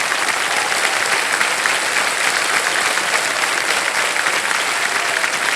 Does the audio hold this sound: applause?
yes